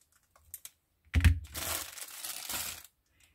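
A small paper flower being cut out, with close crisp snips and crinkling paper rustle in a few short bursts, some faint clicks before.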